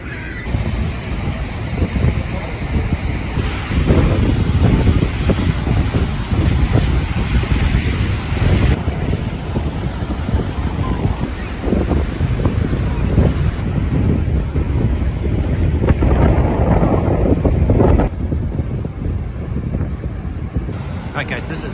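A constant, heavy roar of falling water at Niagara Falls, from the middle falls between the American and Horseshoe Falls, with wind buffeting the microphone, loud and close throughout, with faint voices mixed in.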